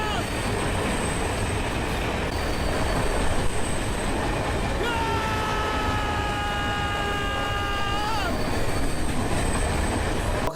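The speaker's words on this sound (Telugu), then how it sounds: "జెర్సీ సినిమాలో ట్రైన్ సీన్ దగ్గర మన నాని గారు అరిచినట్టు అరవాలి." A train from the train scene in the film Jersey rolls along with a continuous rumble, and partway through its wheels let out a long, high metallic squeal over the steady rail noise.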